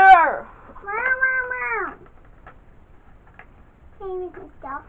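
A cat meowing close by, with two drawn-out meows at the start, a pause, then two shorter meows near the end.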